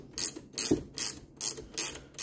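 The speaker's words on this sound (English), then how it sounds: "prefer using these ratcheting wrenches." An 18mm ratcheting wrench tightens a muzzle device, giving about six crisp, evenly paced bursts of ratchet clicking, close and clear with nothing else heard.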